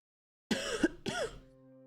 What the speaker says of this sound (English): God, I hate this cough.